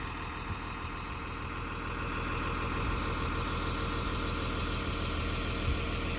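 A bus engine with about 60,000 miles on it idles in a steady low rumble, near and continuous with a slight rise partway through and no talking.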